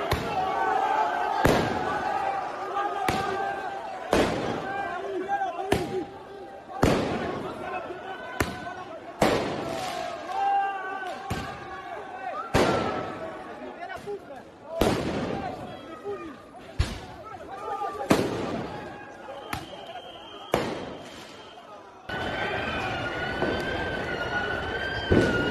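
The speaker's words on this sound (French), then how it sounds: "ce qu'on voit, c'est des supporters qui sont en train d'effectuer des tirs de mortier sur les forces de l'ordre" Firework mortars fired by football supporters at police on the Champs-Élysées, a series of about a dozen sharp loud bangs at irregular intervals, with crowd noise, siren-like wails and shouting voices between the blasts.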